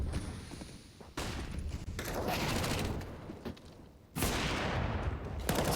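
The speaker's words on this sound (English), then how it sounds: "Still shots landing for both sides." Counter-Strike: Global Offensive gunfire in a competitive match rattles in dense, sustained bursts of rapid shots, fading and then surging again, loud and continuous.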